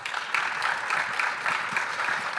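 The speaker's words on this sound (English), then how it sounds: "please give him a round of applause" Audience applause at an accelerator pitch event welcoming speaker Sam Edwards to the stage, a steady, dense wash of clapping from a crowd that holds at an even level throughout.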